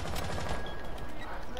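Dense, continuous gunfire from Rainbow Six Siege, a loud unbroken wash of shots and noise over a short stretch, with voices mixed in.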